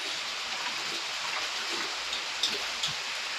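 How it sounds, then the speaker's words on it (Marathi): Heavy monsoon rain pours down in a village in Beed district, Maharashtra, making a dense, steady hiss with a few sharper drops landing close by. "जोरात पाऊस चालू झालेला आहे."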